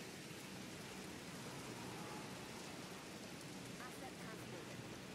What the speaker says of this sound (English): So that doesn't seem to stop the rain sounds.